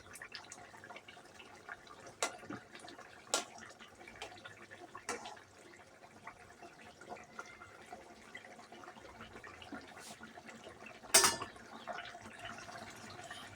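Fish curry boils in a pot with a faint, steady bubbling and simmer, broken by occasional soft pops and one sharper clink, all quiet and close with no talking.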